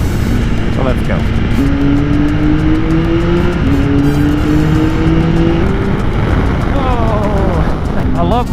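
A Triumph 1200cc inline three-cylinder motorcycle is ridden along a forest road past rock walls, its engine droning steadily and rising and falling with throttle over strong wind rush, with a rider's voice talking over it.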